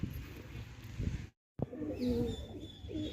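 Pigeons coo in soft, low bursts around a coop, with brief fluttering and rustling and a short gap of silence partway through; occasional faint chirps sit above the murmuring calls.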